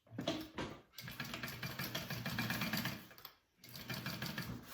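A sewing machine stitches a backpack made from the Meraki pattern, running in steady buzzing bursts, with a short stop near the first second and a brief pause before resuming, up close with no talk.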